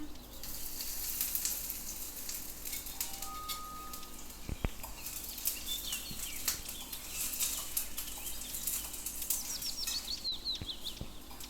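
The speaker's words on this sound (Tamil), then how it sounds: "வெங்காயம் நல்லா வதங்கட்டும்" Onions sauté in oil alongside garlic and dried chilli in a tiny miniature cooking pan, making a faint, continuous crackling sizzle with scattered sharp pops and a few light ticks throughout.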